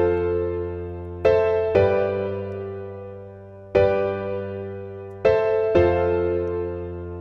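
Piano-style chord progression with added bass notes played at a lowered velocity of about 25, four soft struck chords, some pairs quickly repeated, each ringing and slowly decaying alone.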